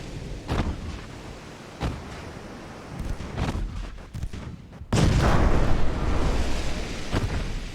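Naval battleship guns fire in a video game battle, a series of heavy booms at irregular intervals, then a sustained roaring barrage of gunfire, loud and close with no talk.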